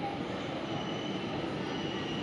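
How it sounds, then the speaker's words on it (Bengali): Continuous rumbling roar of an underground metro train running into Churchgate station, heard from inside, with a faint steady squeal of wheels over the even din. "পৌঁছে গেছে চার্চগেট মেট্রো স্টেশন"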